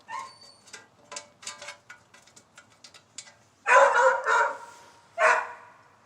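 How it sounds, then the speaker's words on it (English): A pet dog barks repeatedly indoors during a Maytag appliance disassembly, a run of short yips followed by several louder, fuller barks close by. "Apologize, my dog's barking."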